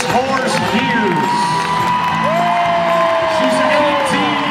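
A large crowd at an equestrian event cheers, whoops and shouts for an 18-year-old retiring dressage mare, loud and sustained, with a few high whistling tones rising over the roar.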